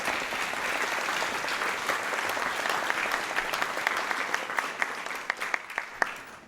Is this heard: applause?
yes